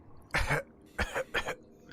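A few soft coughs close by: one short cough, a pause, then two more in quick succession.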